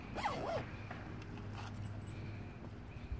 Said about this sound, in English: Zip this one up.